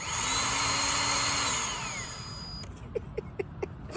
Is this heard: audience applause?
no